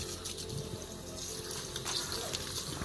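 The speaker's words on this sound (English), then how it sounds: "So I'm gonna mix the water." Water runs and sloshes steadily while it is mixed into cassava and fermented corn dough for Ghanaian banku, a continuous close wet hiss with no speech.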